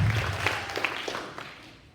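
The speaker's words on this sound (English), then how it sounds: "give our girls a round of applause for that" A school crowd at a middle school spring sports assembly claps in a dense, even wash that fades steadily over two seconds, with no voices over it.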